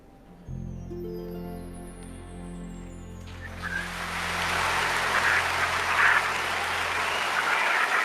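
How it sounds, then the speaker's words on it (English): Music gives way to a crowd's broad, sustained applause, growing louder and steadier over several seconds. "I wanted to leave some applause there because she so deserves it."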